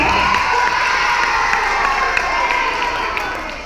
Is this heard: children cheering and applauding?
yes